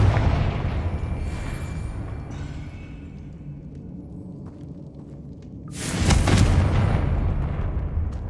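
A Confringo blasting spell in the game Hogwarts Legacy sets off a deep rumbling blast that decays, followed later by a second sharp, loud burst that booms and fades.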